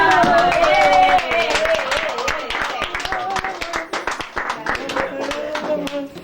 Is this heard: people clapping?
yes